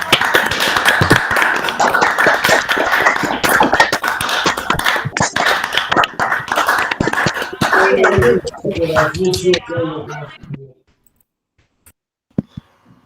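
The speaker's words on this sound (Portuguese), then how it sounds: "Vamos aplaudir agora." An audience after a mathematics lecture on the geometry of Élie Cartan bursts into dense, close applause with voices mixed in, which stops abruptly into near silence except for a couple of stray taps.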